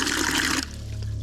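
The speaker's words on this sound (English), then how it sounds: "So plenty of water pressure coming out of there" Water gushes hard from a hose on a DIY overland 4x4 truck camper water system, a loud broadband rush that cuts off abruptly partway through, leaving a low steady hum.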